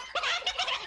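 A cartoon hen squawking in a Tamil animated series, a short, loud, harsh burst of clucking calls lasting under a second, heard alone and up close.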